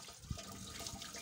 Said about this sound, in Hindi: ये दाढ़ी में पानी डालना है ताकि दाढ़ी के अंदर तक पानी अच्छी तरह से पहुंच जाए।